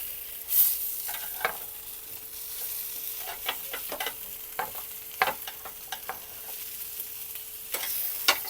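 Fish frying in a hot pan for a home-style mandi, a quiet sizzle under a scattering of sharp spatula taps and scrapes as pieces are turned, close by with no voices.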